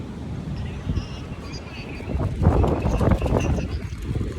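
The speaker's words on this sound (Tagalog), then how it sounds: "Mahangin." Steady wind buffeting the microphone at a bus stop in India, rumbling low and gusting stronger midway, with faint voices in the background.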